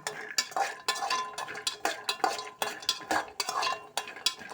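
Peanuts, almonds and cashews roasting in ghee over a low flame, a rapid run of rattling, scraping stirs as the nuts are tossed against the pan, close and busy, with no talking.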